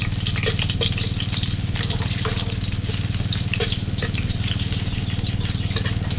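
Garlic sautéing in hot cooking oil, a steady, close crackling sizzle running continuously with faint scraping and clinks from stirring.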